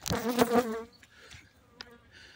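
Honey bees from a swarm in a cemetery buzz close to the microphone, a loud whining drone that fades into faint scattered buzzes and soft knocks.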